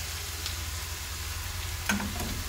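Curry leaves and tomatoes fry in a pan with a steady close sizzle. A brief spoon-against-pan clatter comes near the end while the mixture is stirred.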